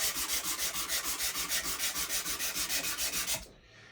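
Steady rhythmic hand sanding on the wood of a 7-string baritone guitar build, about sixteen even back-and-forth scratchy strokes, close and loud, stopping abruptly near the end.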